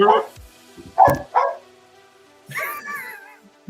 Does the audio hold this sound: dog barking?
yes